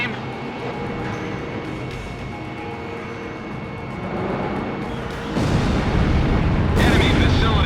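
Explosions as an enemy facility is destroyed in Ace Combat Zero, heavy booming blasts that build and grow louder toward the end, layered over jet noise and radio voices.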